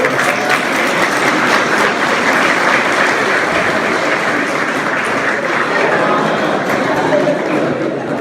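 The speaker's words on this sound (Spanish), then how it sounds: "Démosle un aplauso a esta criatura que acaba de llegar" Crowd applause at a political rally for Uribe in Colombia, a dense, steady wash of clapping that holds loud and even for the whole stretch, with no clear voices over it.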